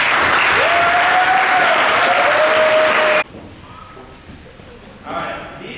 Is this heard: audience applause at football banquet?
yes